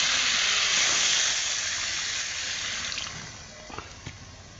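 Water poured into a sizzling cauliflower and potato curry cooking over a wood-fired clay stove sets off a loud, close rush of hissing steam that gradually fades to a softer bubbling sizzle with a few small pops.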